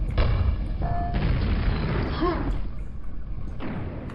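A grenade goes off in the video game Quake, a deep booming blast that rumbles and fades over a few seconds, loud and close, with a brief high tone and game noises around it.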